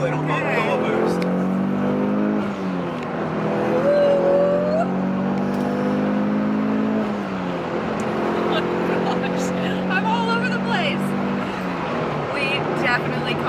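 Engine of a Mitsubishi Evo 9 pulling hard as it accelerates onto a road beside a Porsche, a steady loud drone rising in pitch through two gear pulls, with people talking inside the car over it.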